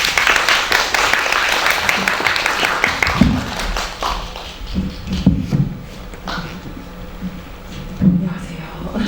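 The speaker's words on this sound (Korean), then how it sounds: "큰 박수 부탁드립니다." A cinema audience at a film festival event applauds as a director is welcomed to the stage. Dense clapping fades after a few seconds into scattered claps, shuffling and thuds.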